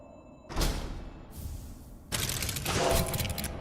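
Fireworks go off in the Silksong video game as the boss Trobbio is defeated, two loud crackling bursts with a broad fizzing spray of sparks.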